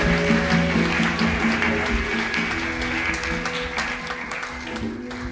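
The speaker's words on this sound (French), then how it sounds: "Est-ce qu'on peut acclamer, applaudir très fort le Seigneur, notre roi, notre maître?" A church congregation applauds the Lord with steady clapping, moderately loud and continuous, while sustained music plays underneath.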